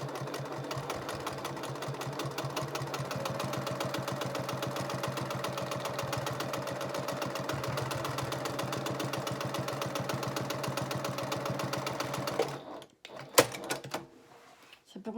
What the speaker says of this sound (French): piqûre pour la maintenir en place. Dans la marge de couture.